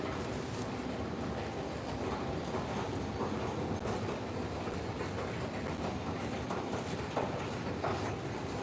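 A New York City subway train rumbles steadily past at close range, with continuous low roar and faint rhythmic clatter of wheels on track.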